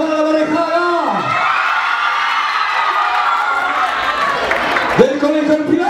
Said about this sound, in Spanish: ¡Aplauso para la pareja!